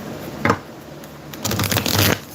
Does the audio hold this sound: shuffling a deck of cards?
yes